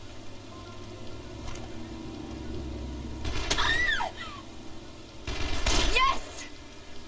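Two separate bursts of gunfire in the video game Dead Island, one in the middle and one near the end, rising over a constant rumbling background, with voices shouting during the shots.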